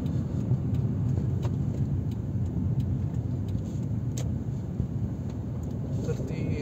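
A Toyota car driving, a steady low road and engine rumble heard from inside the cabin, continuous and fairly loud throughout.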